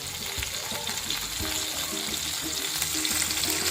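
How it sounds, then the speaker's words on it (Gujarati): Steady, loud sizzling of bell peppers frying in hot oil, a continuous crackling hiss with no talking. "તેલ ગરમ થાય એટલે આપણે તેમાં શિમલા મરચાં એડ કરી દઈશું"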